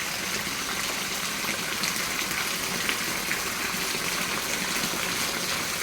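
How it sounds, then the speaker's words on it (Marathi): Rain pours in a village with water gushing and flowing nearby, a loud, continuous rushing wash that holds steady throughout with no pauses. "आमच्या गावामध्ये कसा पाऊस सुरू आहे"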